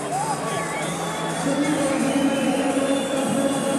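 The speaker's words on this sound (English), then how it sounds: "Listen to the cheers." A gymnastics arena crowd at a world championship in Tashkent cheers and murmurs in a steady, loud wash of applause and hubbub that holds throughout, with some commentary-like voice underneath.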